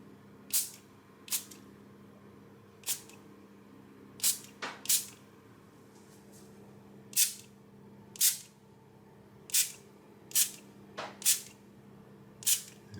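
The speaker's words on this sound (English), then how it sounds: "I'm just going to spray very lightly some fry light, just 1 or 2 sprays on each breast" Frylight cooking oil spray hisses onto seasoned chicken breasts in a run of about a dozen short, sharp bursts, each a quick airy pssht, spaced unevenly and close to the mic over a low steady kitchen hum.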